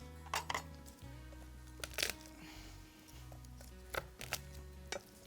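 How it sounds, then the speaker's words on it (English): Garlic cloves being cracked off a whole head for Caesar dressing, giving a few sharp, close snapping and crunching bursts spread over a quiet kitchen background, with no talking. "So I'm gonna go ahead and just crack off maybe 4 cloves of garlic here."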